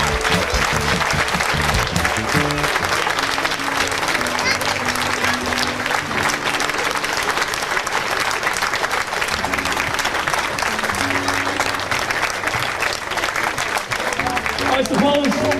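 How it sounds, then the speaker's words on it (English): Crowd applause at a gathering in Cavan, a thick sustained roar of clapping with music or voices mixed underneath, continuing evenly the whole time. "Give her a round of applause, ladies and gentlemen."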